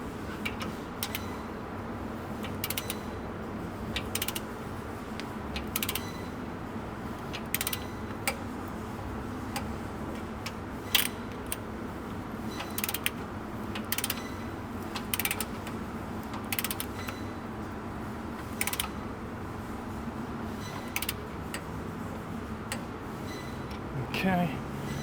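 A ratchet tightens the bottom suspension bolts on a Toyota Prado 250 during a Panhard corrector install, giving scattered sharp clicks over a steady low workshop hum.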